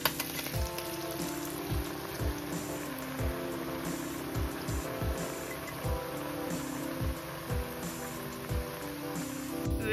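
Food sizzles in hot oil in a pan, a steady close crackling hiss with regular soft knocks and scrapes of a utensil, no talking over it.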